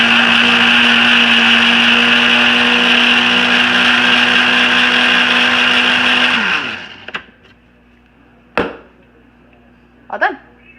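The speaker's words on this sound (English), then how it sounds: "So I am going to just zip this up just so it's blended, so the parsley gets like minced up with everything else" A blender whirs loudly and steadily as it minces dried seasoning with parsley, then winds down and cuts off, followed by a few sharp clunks and clatters of the jar.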